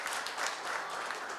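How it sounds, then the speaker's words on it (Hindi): Audience of students clapping for a teacher at a CTET exam students' meetup in an indoor hall, a dense, even burst of applause, fairly faint and brief. "आप सर के ताली बजाओ"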